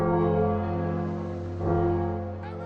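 Church bells ring in a city under siege, with deep sustained tolling tones that hum and swell, a fresh strike blooming midway and a brighter shimmer near the end.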